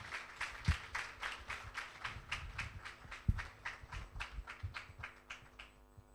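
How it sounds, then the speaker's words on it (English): A crowd at a startup pitch final claps in a steady, rhythmic beat, sharp claps repeating evenly for several seconds at a moderate distance. "A round of applause, please."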